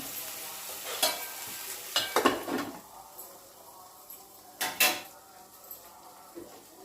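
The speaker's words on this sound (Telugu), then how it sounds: "బెండకాయ ముక్కలన్నీ కలుపుకోవాలి" Okra pieces are stirred in a pan for a village-style okra and egg curry, irregular scraping and clattering strokes of a spoon against the pan over a faint sizzle, close by, with a couple of louder knocks.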